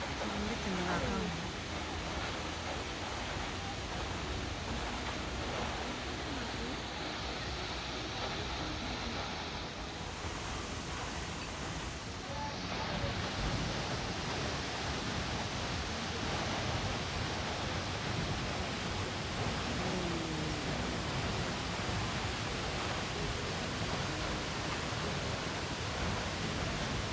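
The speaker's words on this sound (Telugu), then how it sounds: "ఇది ఫాల్స్ ఉంది." Broad, constant roar of a Hawaiian waterfall, Akaka Falls, in humid forest, steady and enveloping for the whole stretch, with a faint voice briefly under it.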